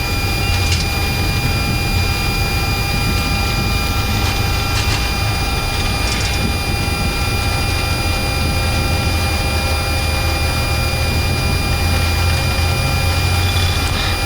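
Airbus A330-200 jet engines spooling up to takeoff thrust on the runway at Oslo, heard from the cockpit as a loud, steady broadband roar with a high whine running throughout.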